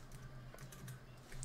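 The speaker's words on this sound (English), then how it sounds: "you just start typing random stuff and you're not even paying attention to what you're typing anymore" Keys on a computer keyboard are tapped in a quick, irregular run of soft clicks, faint and close, with no voices.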